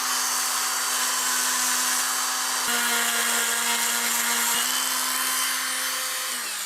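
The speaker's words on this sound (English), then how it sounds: "I'll start the process of getting this groove in here with this little drum sander." A small drum sander whines steadily as it grinds a groove into a wooden eel-shaped swimbait lure, a high continuous tone holding with brief dips in pitch as the bit catches the wood.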